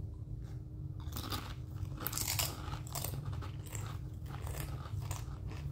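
Doritos Hot Mustard tortilla chips crunched and chewed up close, loud crisp bites and steady munching running throughout with no talking.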